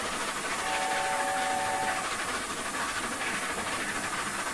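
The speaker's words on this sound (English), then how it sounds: "When it's chuffing, it's chuffing." The A4 Bittern steam locomotive in the Train Simulator game runs on the Wycombe branch line with a constant loud steam hiss and rolling train noise. A brief whistle-like tone sounds early, and no one speaks.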